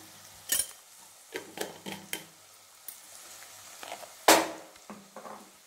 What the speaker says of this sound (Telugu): ఇప్పుడు అల్లం వెల్లుల్లి పేస్ట్ వేద్దాం